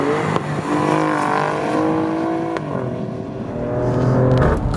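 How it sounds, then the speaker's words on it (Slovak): Alfa Romeo Stelvio QV on a race track as its exhaust opens up, a close engine note rising and falling through revs in gear changes, with a harsher burst of acceleration near the end. "už sa to začína otvárať ten výfuk"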